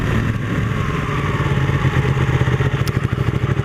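A Ducati Panigale 899 sports motorcycle engine drones loudly and continuously during an autumn country ride, its pulsing note growing more ragged and throbbing toward the end.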